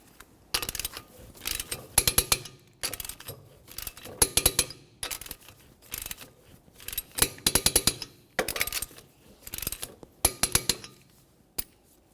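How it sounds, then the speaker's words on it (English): A torque wrench tightens the wheel lug nuts on a 1994-1997 Honda Accord, sounding as repeated bursts of fast ratcheting clicks, each burst ending in a sharper click, with brief pauses between nuts. "let's torque these to 80 foot-pounds in a crisscross manner"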